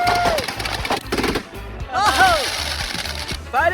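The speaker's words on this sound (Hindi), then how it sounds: "मैंने बस रैंडम पटाखे खरीदे थे" Firecrackers crackle and pop in rapid bursts, some whistling, amid loud chaotic noise indoors, with voices talking over them.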